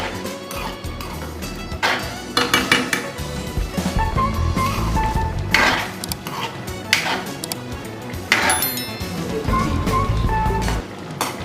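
Potato Manchurian balls are tossed in vegetable gravy in a pan, with clattering of the pan and a utensil in irregular bursts over a steady sizzling background.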